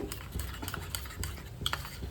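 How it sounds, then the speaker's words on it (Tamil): A spoon stirs idli batter briskly into a bowl of water, with soft repeated scraping and clinking up close. "ஒரு ஸ்பூன் அளவுக்கு இட்லி மாவு அதை எடுத்து தண்ணியில் நல்லா கரைச்சி"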